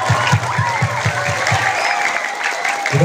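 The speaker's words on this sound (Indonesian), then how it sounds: "Kita berikan apresiasi, tepuk tangan untuk para panitia kita malam ini." An evening crowd at an Islamic sermon gathering claps for the organizing committee, a dense, close burst of applause with a rhythmic low thumping underneath and some murmuring voices.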